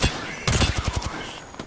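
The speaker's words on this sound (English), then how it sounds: "I hear a lot of gunshots." Bursts of gunfire erupt in an Apex Legends match, with a rapid string of sharp shots followed by scattered single cracks, fairly close and loud.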